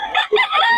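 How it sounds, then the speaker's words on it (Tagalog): Fighting roosters and chickens at a farm in Bocaue, a loud close crow with harsh clucking calls filling a brief burst, no talk over it. "Yun yung talaga mga manok ni Boss Perry, mga idol"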